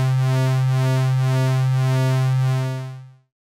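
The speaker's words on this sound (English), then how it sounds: "Now I've chosen the simplest waveform here, a sine wave, but of course it works with other waveforms." Pure sine tone from a Eurorack synthesizer shaped by an Abstract Data ADE-10 Vertical Shaper module: a steady, loud sustained note with rich stacked harmonics and a faint regular pulsing, held alone for nearly three seconds before fading out.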